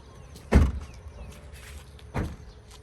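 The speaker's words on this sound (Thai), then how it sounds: "เดี๋ยวผมขอปิดประตูก่อนนะครับ" Two solid thumps of a door shutting on a 1999 Toyota Hilux Sport Rider 3.0 D 4WD pickup, close and heavy, about a second and a half apart.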